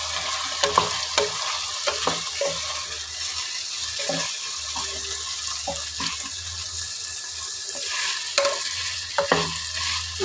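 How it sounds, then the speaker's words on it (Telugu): Capsicum and potato pieces fry in a pan as a spoon stirs them, making steady close sizzling with repeated scraping strokes. Running water sounds in the background. "ఇలా కలుపుతూ ఫ్రై చేయాలి."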